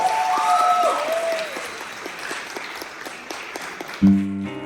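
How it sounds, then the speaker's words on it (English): Applause from a live talent-show grand final audience, a steady crowd clapping that thins out toward the end, with a brief musical tone rising at the close. "A massive round of applause."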